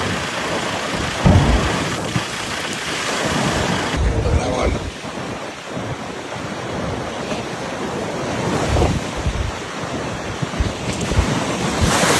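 Large sea waves crashing on the Aberdeenshire coast in strong wind, a continuous roaring surf with heavy booming impacts and gusty rumble throughout, loud and close, with a faint voice underneath.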